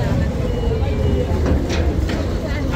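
A river ferry trawler's engine rumbles in a low, continuous, fairly loud drone at a landing near Barisal, with people talking over it.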